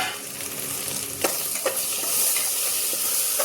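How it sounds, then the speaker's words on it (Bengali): Ginger-garlic paste and ground spices fry in hot oil with a close, constant sizzle, broken by a few sharp scrapes of the spatula as the mix is stirred. "দিয়ে খুব ভালোভাবে মশলাটা কষাবো।"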